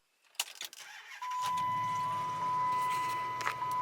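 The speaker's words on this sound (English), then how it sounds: "I proceeded to clear them and restart the car" A car engine cranks and catches after a few clicks, then settles into a steady close idle with a constant high whine alongside.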